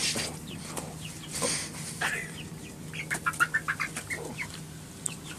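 Hens on a Norwegian farm or backyard cluck in a quick run of short calls near the middle and end, with a brief flutter of wings earlier, heard fairly close against quiet outdoor background and no talk.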